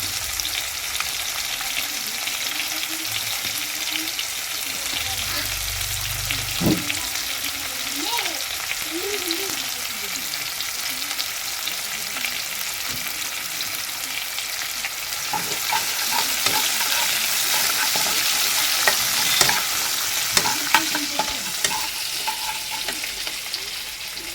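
Onions sizzle and crackle steadily in hot oil, with occasional stirring scrapes; the frying stays loud and continuous throughout.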